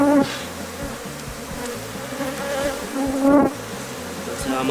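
Honeybees buzzing around brood combs in the middle of an open hive, a dense close drone with individual bees swelling louder as they pass near.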